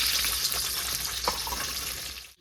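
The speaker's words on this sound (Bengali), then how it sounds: "ভেজে নেবো আগে, গোটা গোটায় ভেজে নেবো, তারপরে আমি কাটাকাটি করবো" Whole blocks of paneer frying in oil give a close, continuous crackling sizzle with a few soft stirring clicks, fading out at the very end.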